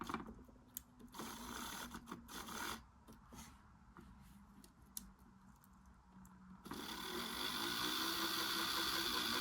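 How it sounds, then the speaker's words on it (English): A Bachmann Dusseldorf model tram's small electric motor runs, first as faint intermittent whirring and scraping, then as a steady, louder buzzing hum over the last few seconds, with no talking. "at least the motor works"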